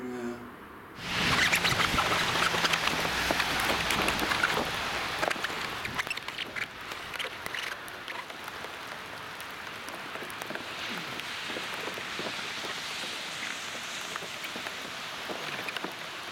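Steady rain patters outdoors in a broadband hiss that starts abruptly, stays loud for a few seconds, then settles into a slightly softer, even downpour with scattered drop ticks throughout.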